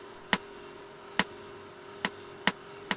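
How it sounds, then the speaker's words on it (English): Computer-generated click count-in with no echo: five sharp dry ticks at a fairly even pace, faint over a low steady hum. "This is generated in a computer, so it's never been through a microphone or a speaker. There's no echo on it whatever"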